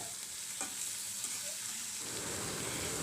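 Onions and green chillies fry in a pan with a steady, close hiss of sizzling oil that grows slightly denser toward the end, with a few faint stirring touches and no talking.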